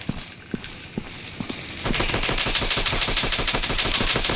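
Gunfire in an Android gun fight shooting game: a few spaced single shots, then a dense, loud stream of rapid automatic bursts that carries on to the end.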